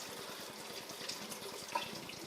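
Water flushes steadily from a reverse osmosis tank faucet, a continuous soft hiss and splash of flowing water into a sink, fairly faint and uninterrupted, with no voices.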